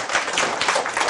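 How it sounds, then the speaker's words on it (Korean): Classroom audience applauding a winning presentation team, a dense, steady wash of many hands clapping close by for about a second, with no voices over it. "우리 1등 발표조는 4조 앞으로 박수 한번 쳐주세요."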